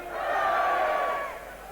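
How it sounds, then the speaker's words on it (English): A crowd roars a sustained hooray in a traditional hip-hip cheer, a loud massed shout of many voices that swells and holds for a couple of seconds before easing off. "Okay, the traditional pre-cheer for Porky Lovett."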